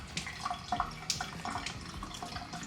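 Tap water running into a kitchen sink while waffle batter is mixed, a quiet, steady splashing trickle with small drips, heard alone at close range.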